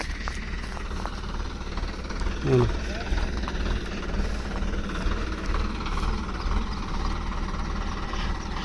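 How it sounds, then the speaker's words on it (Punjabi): A tractor engine idling with a constant low rumble throughout, steady and fairly close. "ਦੇਖੋ ਟਰੈਕਟਰ ਸਟਾਰਟ ਹੈ ਖੜਾ"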